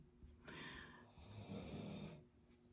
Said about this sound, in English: My dog is snoring super loud.